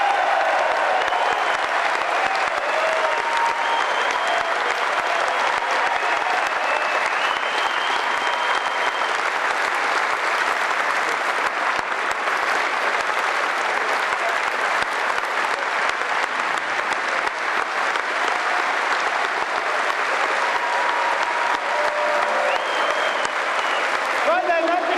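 Sustained, loud applause from a large crowd welcoming two guests, dense steady clapping that fills the whole stretch with murmuring voices mixed in beneath it.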